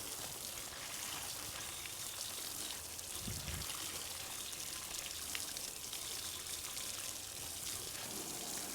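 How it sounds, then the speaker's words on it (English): Water rinsing off a car's gas door area, a faint continuous spray and trickle with a brief heavier splash partway through. "I'm going to rinse this off and do it again"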